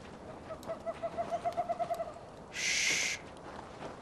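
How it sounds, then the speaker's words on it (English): An owl in the video game The Last of Us gives a rapid series of about a dozen soft, rhythmic hoots at moderate distance, followed by a brief burst of hissing noise. No one speaks. "Stupid owl's making noise."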